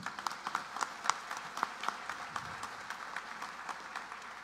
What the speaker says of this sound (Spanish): queremos recibir con un fuerte aplauso a un hombre que cree en el café